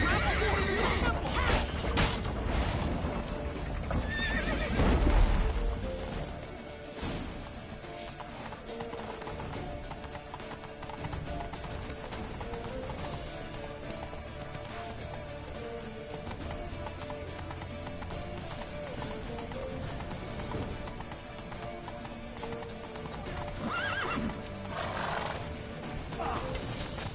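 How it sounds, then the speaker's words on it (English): Horse hooves clatter in a fast, continuous gallop with occasional whinnies, set against a busy The Witcher 3 game soundscape with shouted voices. "Grab a horse to the temple!"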